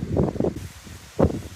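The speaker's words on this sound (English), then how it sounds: "it is sure windy today" Blustery wind buffets nearby in a few rough, low gusts on the shore at low tide, with a quieter lull between them.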